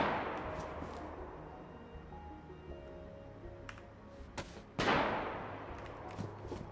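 Gunfire in DayZ on the snowy Namalsk map: a sharp report echoes and decays at the start, scattered faint cracks follow, then a louder, closer shot rings out with a long tail.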